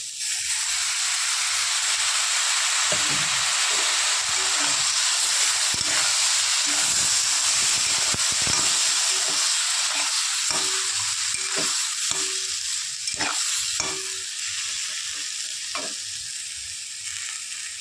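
A paste of onion, ginger, garlic, tomato and green chili fries in hot oil with a loud, constant sizzle and hiss, broken by the frequent clinks and scrapes of stirring.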